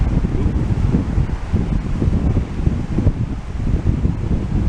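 Steady gusting wind roars across the microphone outdoors at a junkyard, loud and continuous with no voices.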